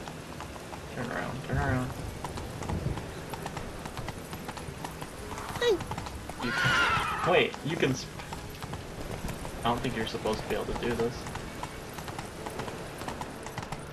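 Roach, the horse in The Witcher 3: Wild Hunt, clip-clops along with a steady run of hoofbeats, a brief whinny rising in the middle, and light rain in the background, while someone talks over it.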